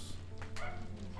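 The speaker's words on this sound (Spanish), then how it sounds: "El perrito va a ladrar." A small dog yaps in the Sherlock Holmes The Awakened video game, a few quick high barks over a low steady game hum, with a voice talking at the same time.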